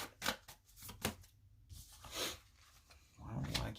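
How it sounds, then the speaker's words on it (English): Tarot cards are shuffled by hand in quiet, repeated riffling and scraping bursts, close but soft. "I don't know why I keep shuffling."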